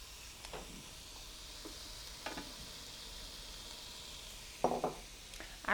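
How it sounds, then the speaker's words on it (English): Pineapple cooking on an outdoor grill, giving a faint, even sizzling hiss with a few soft clicks and scrapes and a louder clatter of handling toward the end. "I've got the pineapple on the grill. We're gonna go ahead and let that cook"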